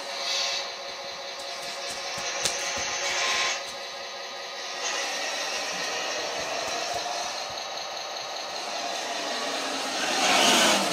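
A fast-driving RC car with a two-stage high/low transmission gives a continuous, strained electric whine with gritty rolling noise that swells near the end, close and fairly loud.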